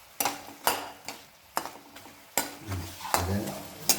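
Diamond-cut snack pieces frying in oil as a utensil stirs them, sharp scraping clacks every half second or so over a quiet sizzle.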